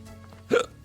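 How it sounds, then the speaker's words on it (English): A single sharp hiccup from a man playing a Pokemon Sword game, a short close burst rising out of quiet game background sound. "Oh my God, I've got the hiccups."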